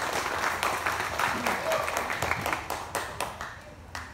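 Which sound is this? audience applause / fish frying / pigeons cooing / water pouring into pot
audience applause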